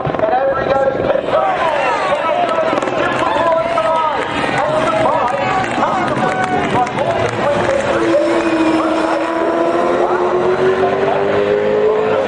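V8 Supercar racing at Bathurst during the 2011 top 10 shootout, engine tone rising and falling steadily throughout, heard under continuous loud commentary and crowd noise.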